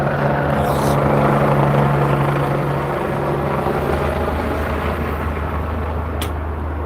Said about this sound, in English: Y'all see the helicopter?